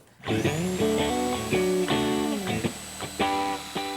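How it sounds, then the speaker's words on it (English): A power saw cuts through the bottom of a wooden wall stud during demolition, a sustained loud whine with a bright high tone, bogging and surging in several bursts as the blade bites the wood. "I'm going to cut off the bottom portion of this stud"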